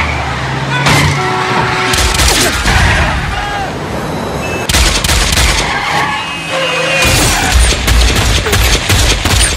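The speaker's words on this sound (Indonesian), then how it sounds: "tembak-menembak" Film shootout scene from Wanted (2008) with bursts of loud gunfire crackling amid crashes and vehicle noise, intense and chaotic, with voices heard in the mix.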